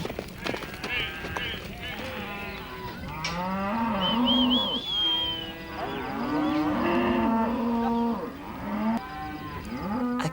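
Cattle on a huge New Caledonia station, driven in by mounted stockmen, low and moo repeatedly in overlapping calls, loud and close, with faint hoofbeats underneath.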